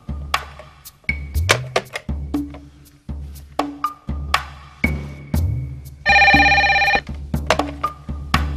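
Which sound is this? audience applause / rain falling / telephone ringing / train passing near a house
telephone ringing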